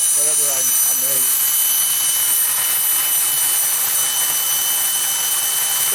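A small homemade steam turbine runs at about 35 psi, giving a steady, loud high-pitched whine and hiss that holds for the whole stretch, with someone talking briefly near the start.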